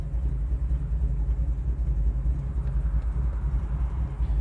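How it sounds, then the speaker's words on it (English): A steady low engine rumble hums continuously, a 1968 Chevrolet Chevy II Nova idling up close with no voices. "Idling, we're not spitting, sputtering, stalling out."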